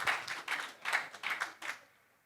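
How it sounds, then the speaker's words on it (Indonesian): An audience at an event claps in a few uneven surging bursts that fade out after about two seconds, moderately soft and slightly distant. "Tepuk tangan buat Bapak Ibu semua untuk Haji Andi Bawono yang waktu itu belum"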